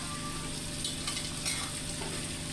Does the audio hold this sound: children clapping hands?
no